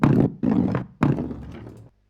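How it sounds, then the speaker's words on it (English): Designed sound of a rolling ball bouncing down steps, with a small tinny, tonal thump quality: three loud thudding, rolling bursts in quick succession, the last one decaying before a brief near-silence. "And this kind of like rolling ball but dropping down steps as well."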